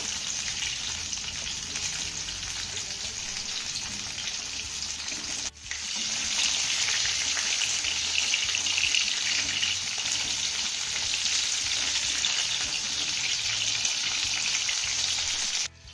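Bitter gourd pieces sizzle and fry steadily in hot oil in a pan, a continuous close hiss running throughout with a brief dip partway through.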